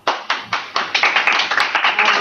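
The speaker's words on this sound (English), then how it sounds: "everyone's clapping because I have to go" A handful of people at a university research talk clap in scattered, uneven bursts that build into denser overlapping applause over about two seconds, fairly close and clear with no talk over it.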